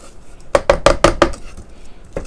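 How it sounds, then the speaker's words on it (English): A spatula knocks and scrapes around a mixing bowl of creamed pound cake batter and sugar, giving five quick clattering strokes in a row, close and crisp, then one more after a pause. "So scrape, make sure there's no raw bits of sugar at the bottom of your mixing bowl."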